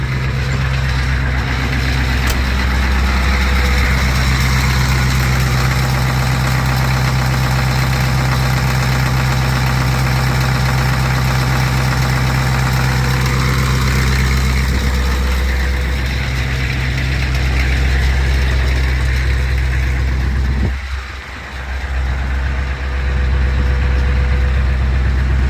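Ford 6.9/7.3 IDI diesel engine idling, a loud, steady low diesel clatter and rumble that runs unbroken and close, with a brief dip near the end before it settles back to idle.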